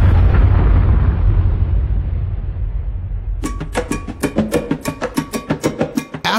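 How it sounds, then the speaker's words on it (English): A broadcast recording of the Big Shot, a 31 kiloton nuclear bomb test. It opens with a loud deep rumbling roar that fades slowly, followed by a fast series of sharp, regular crackling pops. "record and broadcast the test of a 31 kiloton nuclear bomb dubbed the Big Shot"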